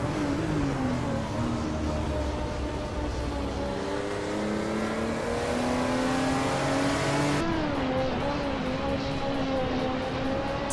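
Race car engines whine and rev steadily in a racing video game, several cars close together with rising and falling pitch as they accelerate and shift, the roar continuous and fairly loud throughout.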